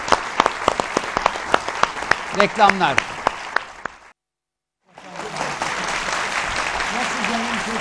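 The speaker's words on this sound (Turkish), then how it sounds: "Alkışlıyoruz" Studio audience at a Turkish TV debate programme breaking into a burst of sharp, close hand claps, mixed with talk, then a brief silent gap before steady crowd noise resumes.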